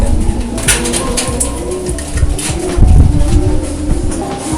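Racing pigeons coo steadily in a loud, busy loft, with flapping and scuffling noise and a low rumble underneath.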